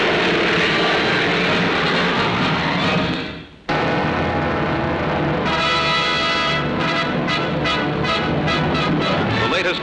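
Aircraft engines of a pack plane in flight drone loudly and continuously, with a brief dip and sharp cut partway through, then resume with a pulsing, throbbing roar.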